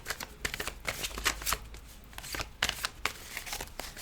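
Playing cards riffle and shuffle in quick, crisp bursts, several separate rustling flurries close to the microphone with brief pauses between them, no talking over them.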